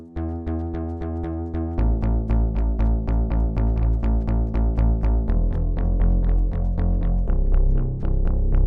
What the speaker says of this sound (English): And for the bass line,